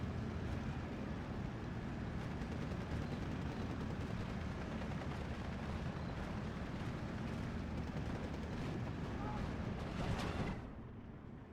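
Beretta gunfire and artillery in the WWII strategy game Steel Division, a dense continuous rumble of battle with overlapping shots and blasts that cuts off abruptly near the end.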